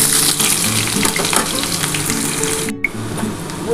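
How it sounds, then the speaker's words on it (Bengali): Chopped onion and black cumin frying in oil, a loud, steady close sizzle with light clatters of stirring and one brief drop near the end, no voices. "কালো জিরেটা একটুখানি ভাজা হলে আমি কিন্তু এই পেঁয়াজটা দিয়ে দেবো"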